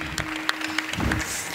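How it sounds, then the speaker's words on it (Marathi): Brief scattered clapping from an audience at a Marathi kirtan gathering, a few sharp claps mixed with a voice and crowd noise, over in about a second. "तात्यांसाठी एकदा टाळ्यांचा गडगडाट ठेवून जाऊ द्या."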